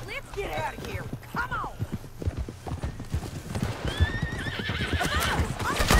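Horses gallop with rapid clip-clop hoofbeats and several loud whinnies in Red Dead Redemption 2, the hooves steady and close throughout, with game voices talking over them.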